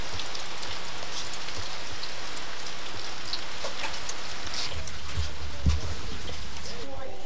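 Steady rain falls across an outdoor setting in rural Kentucky, a broad continuous hiss with scattered drops, while people talk softly nearby and a brief low thump lands near the end.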